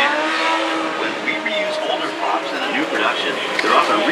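Stunt cars drive around a studio backlot with engines revving and tires briefly squealing, steady and moderately loud, mixed with crowd noise and a tour announcer talking over it.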